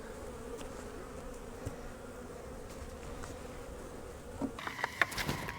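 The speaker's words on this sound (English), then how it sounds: "So when I opened that up, it was completely covered with bees." Honey bees swarm over a hive's inner cover in winter, a steady low buzzing drone throughout, with a few closer, sharper buzzes and rustles rising near the end as bees move nearby.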